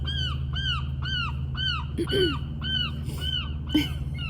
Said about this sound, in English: every time I hear a seagull